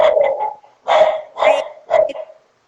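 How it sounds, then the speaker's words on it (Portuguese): A pet dog indoors barks four times in separate bursts, loud and close, with short pauses between each bark, inside a home during a work-from-home call. "desculpa, meu cachorro"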